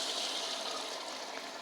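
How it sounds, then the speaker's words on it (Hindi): Yakhni stock for Kabuli pulao pours steadily into a rice pot, a continuous close rushing splash of liquid with no talking. "3 लीटर इसमें हम इंशाल्लाह यखनी ऐड कर रहे हैं।"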